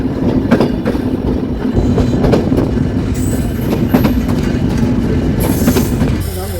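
Chitra Express passenger train on the Khulna–Dhaka run across the Jamuna bridge, heard up close as a steady loud rumble with rhythmic clickety-clack and brief wheel squeals, no voices.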